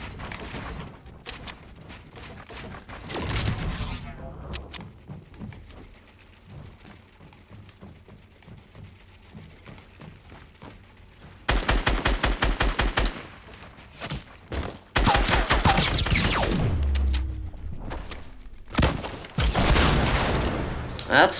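Gunfire in the Fortnite video game, rapid bursts of loud shots in clusters, heaviest in the second half, with a player talking between and over the volleys.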